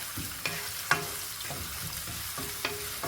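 Two onions fry on high flame until golden for a prawn pulao, a steady sizzle broken by repeated scraping stir strokes of a spatula against the pan, close and moderately loud.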